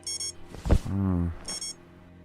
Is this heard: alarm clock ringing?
yes